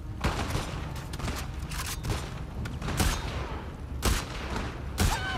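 Enemy gunfire in The Last of Us Part II cracks out as a series of sharp, loud shots at irregular intervals over a busy, noisy combat background.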